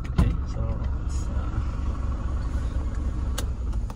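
A 2001 Mercedes-Benz E220 CDI (W210) diesel engine idling just under 1,000 rpm, a steady low rumble heard close by, with a few brief clicks and knocks over it.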